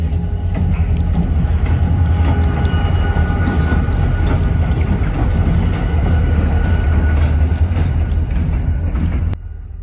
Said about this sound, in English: I didn't realize they were gonna pull the train up this way